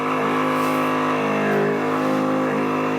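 A car engine idles steadily while an exhaust leak smoke test runs, producing a constant, even hum with no other sounds over it.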